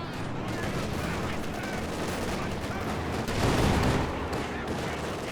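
Anti-tank gun shots in Company of Heroes 2, a dense barrage of booming blasts and impacts mixed with other battlefield fire, steady and loud throughout with a heavier burst near the end.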